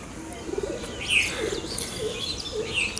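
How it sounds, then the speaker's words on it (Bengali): Golalal pigeons, a noted Bangladeshi breed, cooing in soft low murmurs amid light chirps and a brief flutter of wings, fairly close with faint background noise. "বাংলাদেশের বিখ্যাত গলালাল কবুতর"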